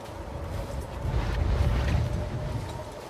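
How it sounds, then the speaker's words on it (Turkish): Strong wind in the survival game The Long Dark, a continuous loud roaring gust that swells in the middle and then eases, with no talk over it. "Böyle bir rüzgar yok kardeşim ya."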